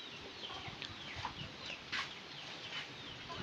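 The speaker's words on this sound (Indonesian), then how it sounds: "Di dalam kandang ini ada 3 ekor ayam" Faint clucking and soft chirpy calls from three chickens, one rooster and two hens, in a coop, scattered over a low, steady background hiss.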